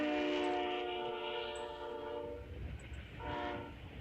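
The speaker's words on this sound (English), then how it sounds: "We have another ocean shipping container train" A train horn blares loudly and steadily, then sounds again briefly, over the heavy rolling rumble of a long westbound freight train carrying ocean shipping containers passing close by.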